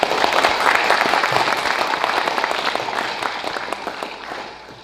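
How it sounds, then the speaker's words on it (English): An audience gives a sincere round of applause for the speakers at a 125th anniversary celebration, dense clapping filling the room before gradually tapering off. "applause for their contributions"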